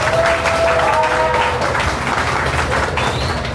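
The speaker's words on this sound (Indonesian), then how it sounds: "Ayo tepuk tangan lagi." A crowd at a book discussion in a café applauds steadily throughout, a dense wash of clapping at close range with a faint voice or tone briefly rising above it.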